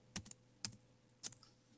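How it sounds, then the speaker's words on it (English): Computer keyboard keys pressed three times at even intervals, crisp soft clicks close by with quiet room background and no talk. "And then you press shift and the vowel."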